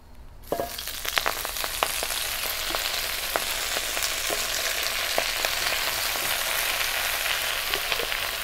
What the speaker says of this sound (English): You're going to take your greens and you're going to place it into your saute pan.